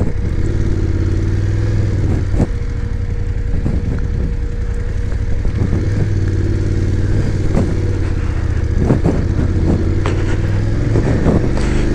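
A Hayabusa motorcycle crossing a rough, broken patch of the mountain road between Jispa and Sarchu on a Ladakh ride, its engine droning steadily while scattered knocks and rattles from the bumpy surface break through.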